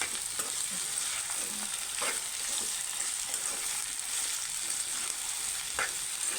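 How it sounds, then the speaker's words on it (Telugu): Potatoes and onions fry and sizzle in a pan with oil while being stirred, a steady close hiss with occasional scraping taps of the spoon, no talking. "ఇప్పుడు ఆలుగడ్డ వేసుకున్నాను, అవి కూడా మంచిగా ఫ్రై అయ్యే వరకు ఇలా కలుపుతాను."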